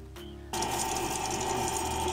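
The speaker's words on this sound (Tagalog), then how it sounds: "Unlike na ibang mixer na maingay, so this time talagang tunog makina siya ng pang matagalan." A Sparrta heavy duty stand mixer with its whisk attachment starts up after a brief quieter hum, then runs steadily with a loud, even mechanical whir close by, with no talking.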